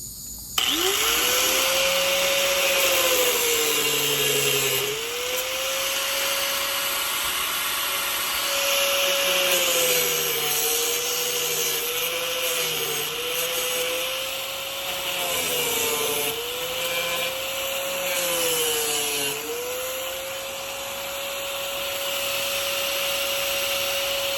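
Power cutter slicing through a custom one-piece door panel, a loud continuous whining motor tone that dips and rises in pitch as it bites into the material, running steadily throughout with no talk.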